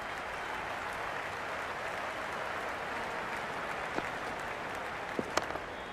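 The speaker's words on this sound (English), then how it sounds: "The crowd is electric right now." Crowd in the Cricket 26 video game, a Sri Lanka versus Pakistan match, keeps up a steady broad roar of cheering and applause throughout, with a few sharp clicks near the end.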